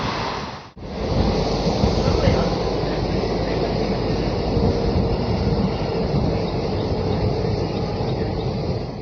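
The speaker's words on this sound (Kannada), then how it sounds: "ನಮ್ಮ ಟ್ರೈನ್ ಬಂದೈತೆ ಈಗ Bagewadi railway station platform number 1ರಾಗ" A train pulling into platform 1 at Bagewadi railway station, heard as a loud, steady rumbling roar of rolling carriages that begins after a brief dip and continues throughout, close by.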